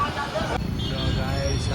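Busy Ahmedabad city road traffic rumbles steadily, with cars and buses passing nearby and a voice talking over the noise.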